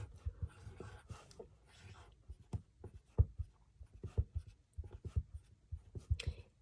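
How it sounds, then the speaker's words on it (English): Marker or pencil drawing cats on paper during a first-grade math lesson, with a string of short, close scratchy strokes and taps in an uneven rhythm, no talking. "I'm going to come over here and I'm going to draw 5 cats."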